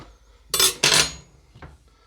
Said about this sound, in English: You just need a putty knife or something to get underneath to loosen it up a little bit.